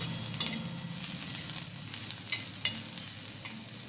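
Chopped curry leaves stirred and fried with onions in a pan for a pea chutney, a steady close sizzle with scraping spoon strokes throughout, no talking.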